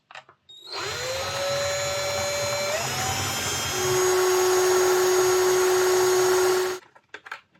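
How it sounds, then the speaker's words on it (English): A small cordless drill drills out rivets on the couplings of a Hornby Class 110 three-car DMU model train, a close, loud, steady motor whine that rises in pitch partway through, running alone for several seconds. "Just drill out these rivets."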